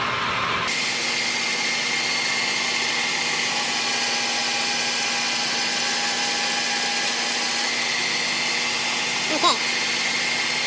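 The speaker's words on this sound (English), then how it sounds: "What I'm going to do is I'm going to turn the machine on." A milling machine runs steadily with a cheap carbide cutter while machining welding table jig pins, a constant close whine and hum. A voice speaks one short word over it.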